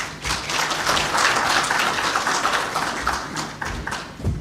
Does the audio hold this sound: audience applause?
yes